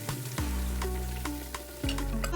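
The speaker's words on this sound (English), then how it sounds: "that is the sound of chunky curry." Spices and duck curry sizzle loudly in a pot, a close continuous crackling fry broken by a few scraping stirs.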